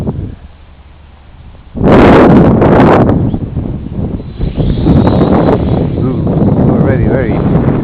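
Strong gusting wind buffets the microphone during a quadcopter flight in very high wind, loud roaring bursts starting about two seconds in and continuing steadily, with a voice talking over the rumble.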